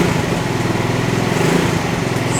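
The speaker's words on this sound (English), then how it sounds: "and then rev it up a little bit" A modded scooter engine runs close by with a rapid, buzzing putter, revving slightly higher and holding steady, loud and alone without talk.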